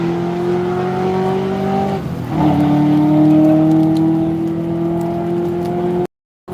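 Race car accelerating hard through first and second gear on the Texas Mile, a loud steady engine drone that rises in pitch, dips briefly at a gear change near two seconds, then climbs again before cutting off abruptly.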